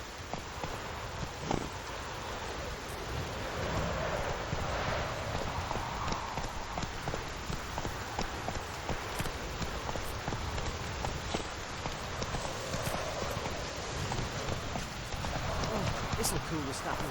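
Video game horse Roach galloping with steady hoof clip-clop over continuous ambient noise, while a voice talks over it.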